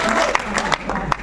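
Audience applause at a mushaira in the Urdu Academy Auditorium, Lucknow, steady clapping filling the hall with a few sharper claps standing out, while a voice speaks over it.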